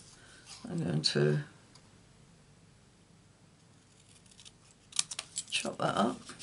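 Close scissors snipping through card-making paper in short bursts, a few quick cuts at first, then a longer run of rapid snips after a quiet pause.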